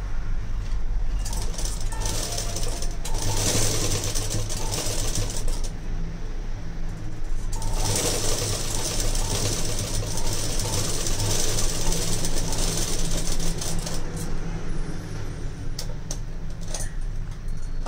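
A sewing machine stitching black lining fabric for a lehenga, a loud, close, steady mechanical whir with rapid needle rattle that runs the whole time, rising and easing slightly in pace without stopping.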